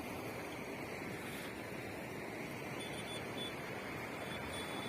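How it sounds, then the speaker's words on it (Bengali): Water running down from a hill at dusk makes a steady, dense rushing wash that stays constant at moderate loudness throughout, with no voices. "ওই পাহাড় থেকে এই জলটা বয়ে আসছে।"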